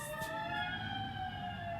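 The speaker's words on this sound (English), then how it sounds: "It sounds like an ambulance." An ambulance siren on a nearby road, a sustained wailing tone heard at moderate distance for a couple of seconds along with traffic noise, with no talking.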